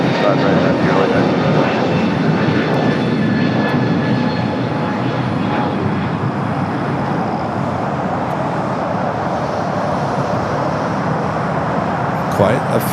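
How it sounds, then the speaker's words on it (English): A Hawaiian Airlines Airbus A321neo takes off from the south side of LAX, its loud continuous jet engine roar holding steady throughout, with a voice talking over it. "It's a third Hawaiian A321 Neo taking off here on the south side"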